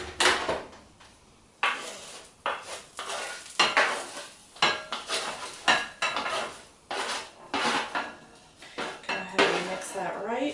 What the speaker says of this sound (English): ahead and mix that right into the orzo